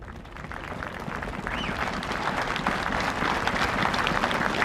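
Crowd applause at Joe Biden's presidential inauguration, a dense, steady wash of many hands clapping that swells slightly after the first second and holds strong, with no voices over it.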